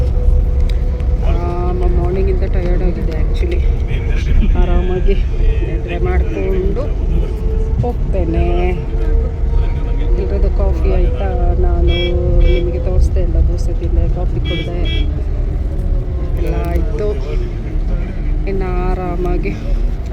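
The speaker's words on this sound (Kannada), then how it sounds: "ಇ ವಿ ಬಸ್ಸಲ್ಲಿ ಹೋಗ್ತಾ ಇದ್ದೇನೆ" Interior of a moving electric bus on the road from Coorg to Bangalore, a steady loud road and cabin rumble throughout, with people talking inside the bus over it.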